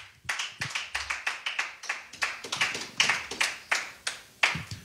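A church congregation claps together in a steady, rhythmic beat of many hands, heard from a slight distance and fairly soft, with no voices over it.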